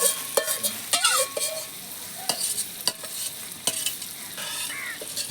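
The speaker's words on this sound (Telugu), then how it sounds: "మసాలా అన్నీ పట్టించిన రొయ్యలు వేసేస్తున్నాం" Masala-coated prawns for biryani sizzle in a hot pan while a spoon stirs them, making repeated sharp scrapes and clinks over a steady frying hiss. The sound is close and clear, with no talking.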